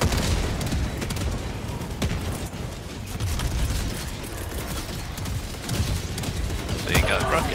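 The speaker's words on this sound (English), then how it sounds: "Is that your mortar? That was your mortar." Booming mortar blasts and scattered gunfire rumble through a Helldivers 2 battle against Automatons, with dense, continuous combat noise and a few sharper impacts mixed under people talking.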